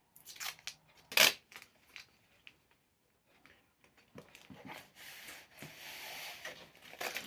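Construction tape is torn and pressed onto a homemade cardboard shelf for toilet paper and air freshener, giving a sharp rip followed by scattered rubbing and smoothing scrapes, close and fairly quiet, with no talking.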